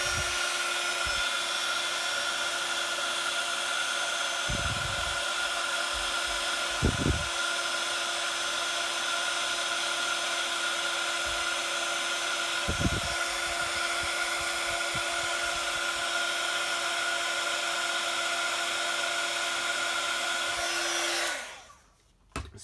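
A heat tool runs steadily at close range, heat-setting embossing powder on a Christmas plaid stamped card, with a continuous airy whir that holds for about twenty seconds before cutting off abruptly.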